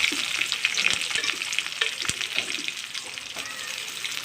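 Onions and curry leaves sauté in hot oil with mustard seeds for a brinjal coconut-milk kuzhambu. The close, busy sizzle carries sharp crackles and stirring clicks, with faint speech in the background.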